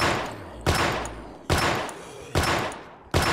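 Four loud gunshots from a lightweight gun fired in the zombie survival game Project Zomboid, spaced under a second apart, each sharp crack trailing off into a decaying rumble.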